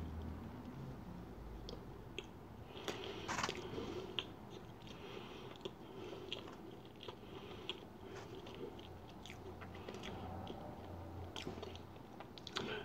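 Someone eats a packaged chocolate peanut butter cupcake close to the microphone, producing faint, soft, moist chewing and squishing with a few small crunchy clicks, steady throughout and without talking.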